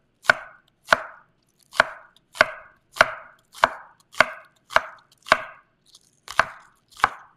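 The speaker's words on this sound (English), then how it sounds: "slice them thinly" A knife thinly slicing vegetables on a cutting board, about eleven crisp, evenly spaced chops at a steady unhurried pace, close and clear with no other sound.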